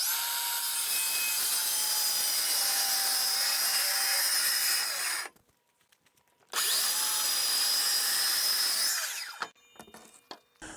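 A power saw cuts through a sheet of plywood with a loud, sustained whining rasp. After about five seconds it stops briefly, then a second long cut runs, followed by scattered knocks as the saw winds down.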